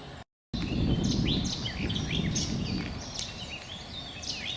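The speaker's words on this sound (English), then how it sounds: "you might be able to hear in the background one of the summer visitor warblers" A summer visitor warbler sings faintly in the background on the Forty Hall estate nature trail. Thin, quick chirping phrases sit above a steady low outdoor rumble.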